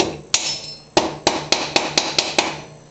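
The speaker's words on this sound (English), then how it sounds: "I'll probably have to hammer" Hammer blows strike a valve seat during refurbishment of a player piano: two spaced hits, then a quick regular run of about seven sharp, ringing taps, loud and close with no talk.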